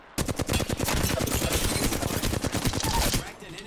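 Rapid automatic gunfire in the video game Apex Legends, a loud, sustained stream of close shots for about three seconds before it breaks off, with no clear speech over it.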